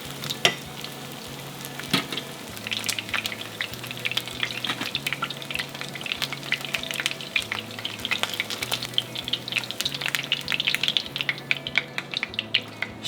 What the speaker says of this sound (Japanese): 肉の方皮がない方を1分ぐらい揚げ焼きにしたら一旦引き上げます